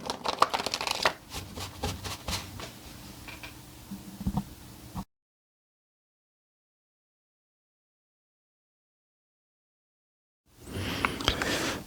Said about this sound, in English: Time to shuffle the cards at the midway point.